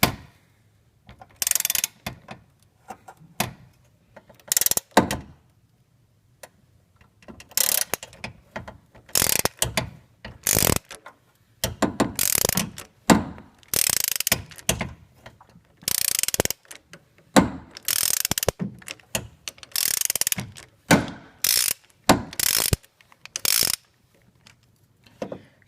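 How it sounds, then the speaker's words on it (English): A ratchet wrench on an extension loosens the air box nut on a Fiat 500, giving repeated bursts of sharp, rapid clicking separated by short pauses, close and clear with no talk. "I'm going to put my other hand out on the end of the wrench, and I'm going to make sure that this extension stays vertical."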